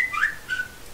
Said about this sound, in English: You can hear my phone going off.